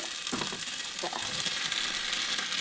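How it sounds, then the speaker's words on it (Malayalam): Sliced raw plantain and softened onions are tossed in a hot frying pan, a steady close sizzle with a few soft scraping stirs early on, no voices. "നമുക്ക് ഈ പച്ചക്ക ഇതിട്ടൊന്ന് ഇളക്കാം കേട്ടോ"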